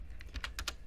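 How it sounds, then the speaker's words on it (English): Someone types on a computer keyboard in a brief run of five or six quick, close key taps, with no talking. "If we actually type in here tasks as well"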